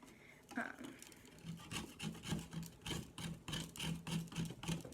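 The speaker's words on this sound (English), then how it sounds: "So now we are going to take our cheese grater. Now we're just gonna grate it." A stick of sidewalk chalk is scraped across a metal cheese grater in quick, rhythmic rasping strokes, about ten of them, close and fairly quiet.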